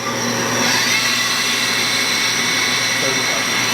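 A Citizen M-20 CNC Swiss-type multi-axis lathe with live and gang tooling runs with a loud, steady, unbroken whirring whine that holds an even level throughout.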